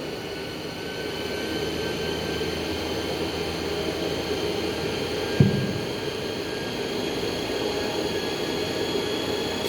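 DC shunt motor running steadily on a test bench, a continuous whirring hum with a high whine, plus one brief click partway through and no talking.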